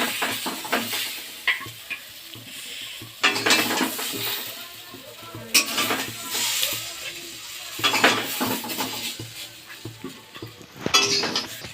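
Potatoes frying in a pan for a home-cooked chicken dish, with a soft sizzle under repeated close metallic scraping and clinking of a spatula stirring, coming in irregular bursts.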